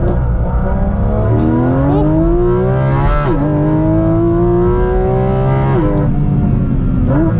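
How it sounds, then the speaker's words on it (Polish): A Porsche GT4 RS flat-six screaming at high rpm on a mountain road, loud and close, with rising tones climbing through the gears and brief dips at each shift. "ten silnik można nazwać pieprzoną rakietą, bo to, co się dzieje powyżej 6000 obrotów na minutę"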